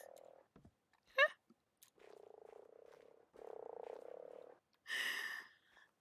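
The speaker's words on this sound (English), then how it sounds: "I found all the frogs." Frogs croaking inside a video game, a series of steady low croaks repeating in separate bursts, with a brighter burst near the end and a short chirpy call earlier; no talking over them.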